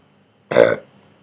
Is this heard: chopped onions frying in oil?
no